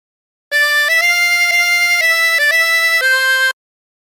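Harmonica playing a short phrase of Oh My Darling Clementine, a clear sequence of about seven sustained reedy notes stepping up and down, loud and close with no voice over it.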